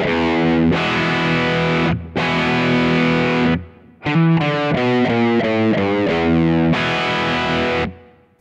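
Distorted electric guitar chugs through a riff, loud sustained power chords broken by a quick run of single picked notes before the chords return.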